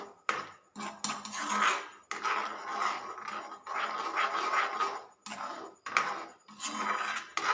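A spoon scrapes and clatters against a pan as food with chutney, goda masala and salt is stirred, in repeated bursts of rubbing and clinking separated by short pauses, close and clear with no speech.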